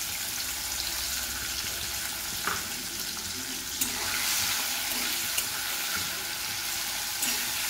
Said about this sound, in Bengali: এবার ওই একই তেলে চিংড়ি মাছগুলোকেও ভেজে নেব।